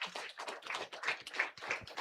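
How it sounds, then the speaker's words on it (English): Quiet, scattered applause rises from an audience at a corporate women's event, welcoming a partner organisation to the stage. The handclaps come in uneven, overlapping bursts, soft and somewhat distant. "let's have a big applause for My Career Net"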